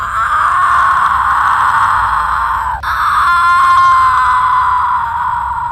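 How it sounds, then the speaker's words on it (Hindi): Witch screaming from a tree as a story sound effect: a loud, sustained, wailing scream that breaks off briefly midway and then resumes, eerie and moaning in tone. "पेड़ से चुड़ैल की चिल्लाने की आवाजें आने लगती है"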